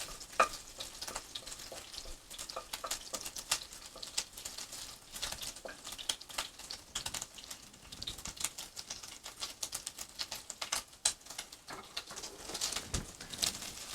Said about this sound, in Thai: เจียวเบคอนเพื่อนอยู่ เจียว กระเทียมให้มัน สุกจักหน่อยก่อน ให้มันเหลืองจักหน่อยมันค่อยหอม